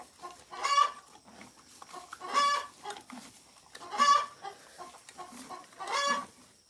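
Chickens cluck nearby in four loud bursts spaced about two seconds apart, with softer clucks and murmurs filling the gaps.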